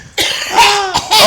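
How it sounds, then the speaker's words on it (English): A single close, loud cough bursts out, then rough throat-clearing rasps follow in quick succession. "let me clear my throat"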